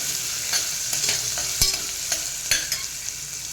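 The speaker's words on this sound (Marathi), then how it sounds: "कांदा आपण दोन एक मिनटं परतून घेऊया थोडासा लालसर होईपर्यंत तो परतून घ्यायचा आहे" Chopped onion with curry leaves frying steadily in a pan, a continuous close sizzle broken by a few sharp clicks of a spatula scraping and stirring, with no voices.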